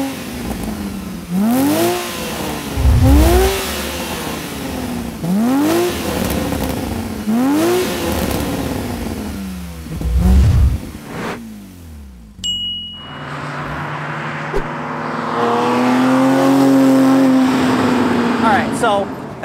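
A 2013 Porsche 981 Boxster with a six-speed manual and loud exhaust revs through repeated rising engine sweeps, several close pulls in sequence, followed by a steadier droning run with road noise.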